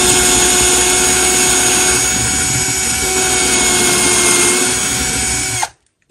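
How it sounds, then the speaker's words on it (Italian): A Hychika 18V cordless drill bores into wood with a 10 mm wood bit, running as a loud, steady motor whine close by, then stopping abruptly near the end. "farò un foro da questa parte e poi ne farò un altro con una punta normale per legno da 10 mm"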